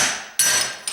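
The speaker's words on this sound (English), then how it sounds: "This hammer is going to work fine." A flat-ended hammer bashes at an old tile countertop during removal, landing sharp, loud, close cracks of ceramic, with one strike in the middle and another just after.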